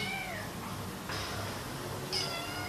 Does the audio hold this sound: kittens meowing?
yes